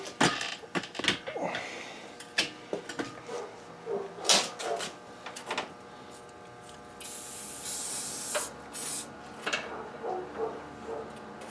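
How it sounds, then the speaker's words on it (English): Short bursts of spray paint aerosol, hissing on and off with pauses between, then a longer steady spray near the end; quiet clicks and handling noises between bursts, painting a Ford F-150 engine bay. "with a little bit of spray can technology"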